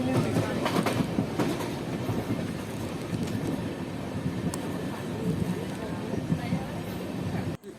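The Mumbai LTT–Ernakulam superfast train rolls along the Konkan route through tunnels, heard from on board as a loud continuous rumble with clickety-clack wheel rhythm and occasional squeals. A voice talks over the noise.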